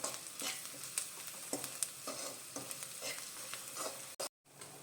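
Cauliflower rice mixture with chilli powder sizzles steadily in a pan, broadband frying hiss with repeated scraping stirs at irregular intervals, close and moderately loud, briefly cutting out near the end.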